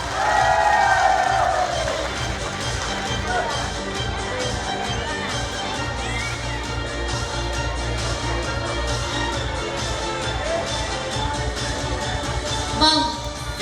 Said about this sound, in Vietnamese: một tràng pháo tay thật lớn ạ